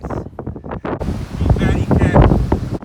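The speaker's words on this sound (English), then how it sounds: "you won't actually be able to hear what I'm saying here because it was so windy" Heavy wind gusts rumble against the microphone on a sunny, cold January day in Penarth, rising after the first second and nearly drowning out a person speaking.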